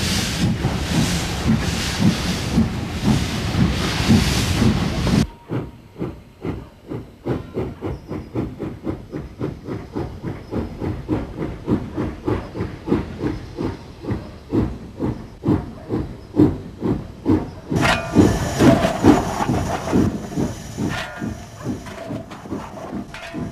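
Steam locomotive 841 pulling away from Grosmont station on the North Yorkshire Moors Railway up a steep bank, a loud hiss of steam release giving way to steady rhythmic chuffing, with a renewed burst of steam hiss near the end.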